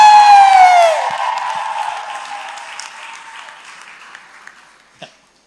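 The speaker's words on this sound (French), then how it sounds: "il faut acclamer" An audience at a couple's question-and-answer event breaks into applause that starts loud under a brief falling electronic tone, then thins and fades gradually, ending with one last isolated clap.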